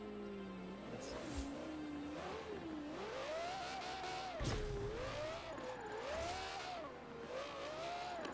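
A car in Forza revving under steady throttle, the engine note rising and falling in smooth waves as it accelerates and eases off, loud and continuous with brief thumps of game effects.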